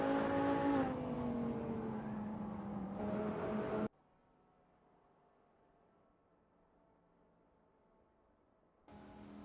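Race cars roar loudly in a racing simulator game, engine tones shifting steadily, then drop away to a faint hum for several seconds before the engine noise returns.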